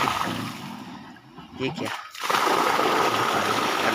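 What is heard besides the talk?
water gushing from a farm irrigation pipeline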